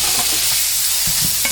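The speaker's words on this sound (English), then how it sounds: "And now you want to go ahead and put in your tomatoes." Tomatoes fry in hot oil for a vegan coconut chickpea curry, making a loud, dense sizzling hiss with a few soft stirring bumps near the end.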